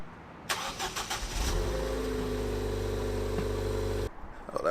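A Chevrolet Camaro SS with an H-pipe exhaust cranks and fires up, catching into a deep, loud, steady rumble that holds for several seconds before cutting off abruptly.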